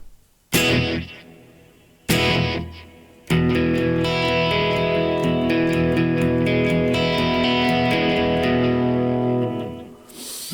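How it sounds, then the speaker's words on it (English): Electric guitar tracked through an M-Audio interface with a reverb plugin: two separate plucked hits ring out, then a sustained strummed chord holds with a washy reverberant tail, loud and close, no voices. "And with the reverb."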